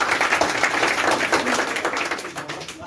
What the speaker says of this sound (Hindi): इसके लिए एक बार जोरदार ताली हो जाए